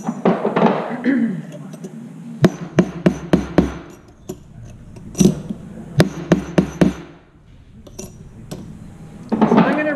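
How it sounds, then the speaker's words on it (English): A hammer strikes brass sheet metal on a hard surface to flatten it before riveting, sounding as bursts of sharp, close metallic taps in quick runs, with quieter stretches between them and faint background talk. "So I'm just flattening my metal."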